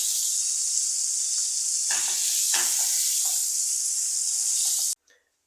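Steady, loud sizzle of liver frying in a pan, with a few stirring scrapes, cutting off abruptly near the end.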